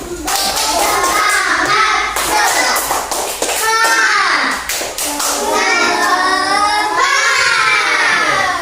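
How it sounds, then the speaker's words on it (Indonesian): A classroom of schoolchildren doing a rhythmic spirit clap, bursts of patterned hand claps mixed with children's voices calling and chanting along, close and loud. "Ayo, tepuk semangat dulu."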